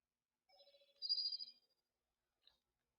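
A phone rings once in a short electronic ringtone burst, faint and somewhat distant in an otherwise quiet room, followed by a small click.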